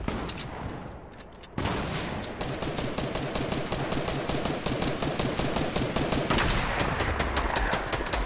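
Rapid bursts of gunfire from a Fortnite match, including a sniper rifle shot, crackle loud and dense across the clip, with a quieter lead-in before the shooting kicks in sharply and keeps going without a break.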